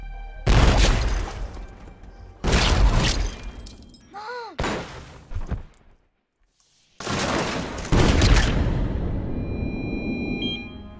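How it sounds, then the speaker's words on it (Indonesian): Hired killers open fire on a family in a film scene: loud bursts of rapid gunshots with shattering impacts, broken by short gaps and a near-silent pause before another heavy volley. "3 orang pembunuh bayaran yang langsung menembak mereka dengan sangat brutal dan tidak manusiawi"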